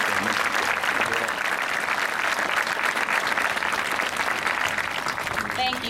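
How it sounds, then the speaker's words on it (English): Sustained applause from a large audience honoring healthcare workers such as techs, social workers and staff, a dense, steady wash of clapping that stays loud and continuous throughout, with some murmured voices underneath. "would you please stand so we can give you a round of applause?"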